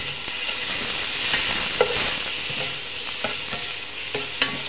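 Onions sizzle and fry steadily in rendered pork fat while being stirred for sinigang, a continuous close hiss with a few sharp utensil clinks scattered through it.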